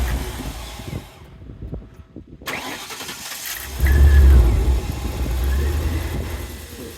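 A 1956 Ford F100 pickup with a modern 4.6L engine and new exhaust fires up, then revs loudly with deep rumbling bursts after a brief quiet stretch, settling into a throaty idle.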